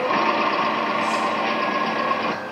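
A driverless tractor engine runs in a farm field, giving a steady, close, loud mechanical drone with no voices, easing off slightly at the very end.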